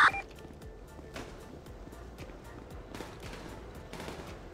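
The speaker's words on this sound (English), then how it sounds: "Oh, French, you got shot. I'm getting hit" Gunfire in the video game GTA 5, a dense spread of sharp shots and bursts of fairly faint, distant-sounding fire continuing throughout over a busy game background.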